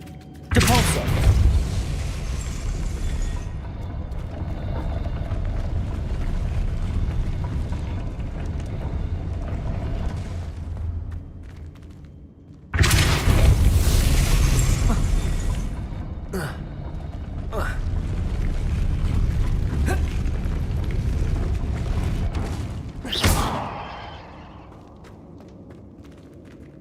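Spinning mechanism in Hogwarts Legacy turning to raise a platform, a loud sustained grinding rumble with creaks and booming thuds that fades, surges again midway, and ends with a sharp clank.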